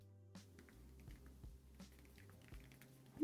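Soft, irregular taps of thumbs typing on a BlackBerry Passport's physical keyboard with a somewhat soft spacebar, faint and close in a quiet room, with no talk.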